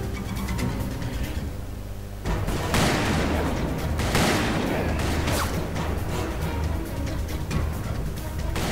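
Gunfire in the Western shooter game Call of Juarez, a dense run of shots and booms continuing through the whole stretch, loud and close, a brief quiet gap early on, with no talk over it.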